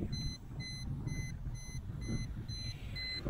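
A FLYTEC H825G quadcopter transmitter's high electronic buzzer beeps in a steady repeating pattern, about three times per second, over a low rumbling hum.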